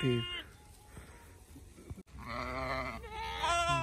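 A distressed goat bleats loudly several times in wavering, drawn-out cries, near and clear, with rustling and movement sounds between calls.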